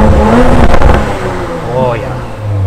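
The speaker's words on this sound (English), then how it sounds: "Oh, we're in exhaust now." A 2018 Audi RS5 with its exhaust mode engaged rumbles and revs up and down close by, a loud, throaty engine note rising and falling, with a voice speaking briefly over it.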